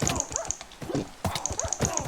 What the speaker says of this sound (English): Why is Linus making all these whining noises? Is Linus being hurt